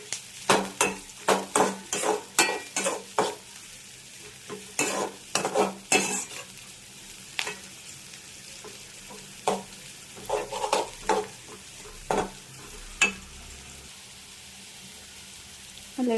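Spinach (palak keerai) and sliced green chillies sauté in a pan, with a soft sizzle under irregular scraping strokes of a spoon, brisk at first and then sparser, close and fairly quiet.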